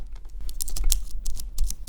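Clicks of a computer keyboard as keys are pressed in an irregular, fairly close typing patter, on a keyboard that has been customised and had lemon juice added to it.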